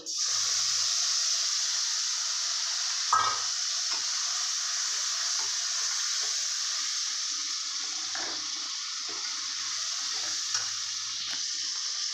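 Garlic, ginger and onion paste hits hot ghee for a Bengali doi katla, giving a steady, close hiss of frying that holds evenly throughout, with a brief louder splash near the start as the paste goes in.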